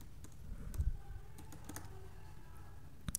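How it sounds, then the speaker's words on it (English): Keys on a computer keyboard are tapped in a quiet room, with scattered soft clicks and a few firmer presses, close and faint. "Just press backspace just once and type whatever you want to type."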